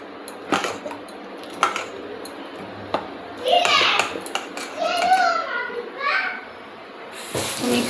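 A spoon stirs oats in a cooking pot, giving scattered clinks and scrapes of metal against metal, mostly under children chattering nearby.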